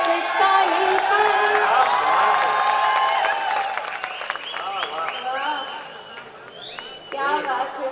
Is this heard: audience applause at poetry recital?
yes